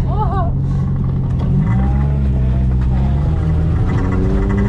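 Exhaust of a turbocharged BMW 318ti revving on a track, a loud engine note climbing and falling in pitch through several rises, with people talking over it.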